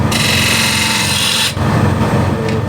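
A spindle gouge cuts into a wooden bowl spinning on a lathe, giving a loud, close, continuous scraping hiss with a steady motor hum underneath and a brief dip in the cutting noise partway through.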